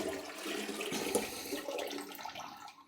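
A household toilet flushes right after its fill valve was replaced, a steady rush of swirling water that holds for about two seconds and then drains and fades toward quiet.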